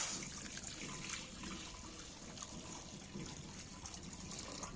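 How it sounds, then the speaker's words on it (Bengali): Water pours into a wok on a stove in a continuous, close trickling stream that runs evenly throughout. "এবার জল ঢেলে দিচ্ছি কিছুটা"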